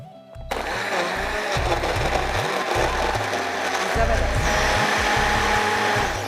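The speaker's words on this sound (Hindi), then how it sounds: "इसको हम अच्छे से ब्लेंड कर लेते हैं" A blender running at full power on a chocolate peanut butter smoothie with ice, switching on sharply into a loud, steady whir with grinding, chunky ice rattles throughout.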